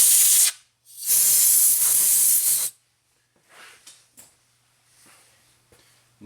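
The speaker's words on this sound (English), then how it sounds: "spray a little fluid film for a little corrosion protection on there" Aerosol can of Fluid Film corrosion protection spraying onto an engine mount, two loud close hissing bursts, a short one then a longer one, followed by faint clinks and handling noises.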